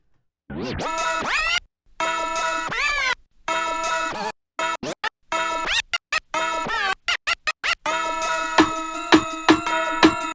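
Turntable scratching in rapid, choppy bursts of pitched, warbling music, stuttering on and off with gaps, growing busier and punchier toward the end.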